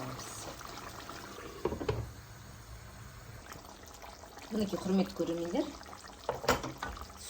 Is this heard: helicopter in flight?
no